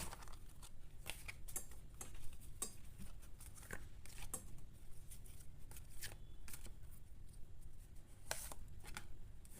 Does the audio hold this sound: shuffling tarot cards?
yes